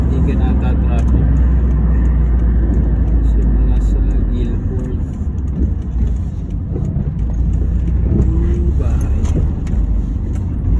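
A car drives along a road in Canada on New Year's, steady low engine and tyre rumble filling the whole stretch, with people talking over it throughout.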